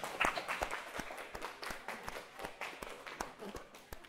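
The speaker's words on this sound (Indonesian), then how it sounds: "silahkan berikan aplaus untuk 3 peringkat ini" An audience claps for the top three rankings in a classroom, a modest round of applause of steady hand claps for about four seconds, fairly faint and a little distant.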